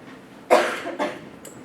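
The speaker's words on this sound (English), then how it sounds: "I do have a bit of a cough" A presenter at a FreeSurfer lecture gives a loud, close cough, two harsh bursts followed by a faint brief catch, with no speech.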